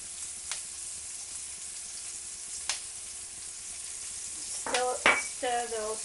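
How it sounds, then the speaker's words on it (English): Onions and garlic fry in a little leftover oil in a pan for Moroccan lamb meatballs, giving a steady close sizzle with a couple of sharp stirring clicks; a voice briefly speaks near the end. "I'm going to pop in the onions,"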